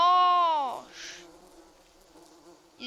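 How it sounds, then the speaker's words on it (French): Bees swarming and attacking in the jungle survival game Green Hell, a loud close buzz with a falling drone, fading into a quieter hum before another burst at the end. "Il y a des abeilles qui m'ont défoncé."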